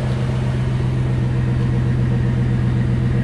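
A 2007 Chevy Silverado 1500 pickup idles with a deep, throaty Flowmaster exhaust burble, steady and close, with a rhythmic low pulsing and no talking.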